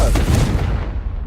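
Confringo fire-blast spell explosion in the Hogwarts Legacy video game: a loud, dense booming burst with rumbling low end, fading out over about a second.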